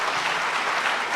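Dense, steady applause from an audience at a Hindi poetry recital (kavi sammelan), loud and continuous throughout with no break and no clear voice on top.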